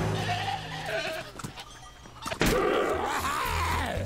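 A goat bleats in the video game Plants vs. Zombies Garden Warfare 2, a wavering nasal cry, then a sharp hit and a second louder bleat close up over game noise.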